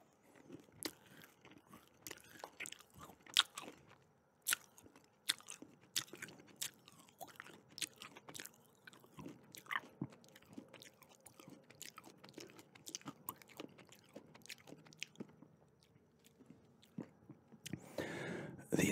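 Close, quiet chewing of Nerds Gummy Clusters candy, steady crunchy bites and soft squishy mastication repeating throughout, heard alone with no talking.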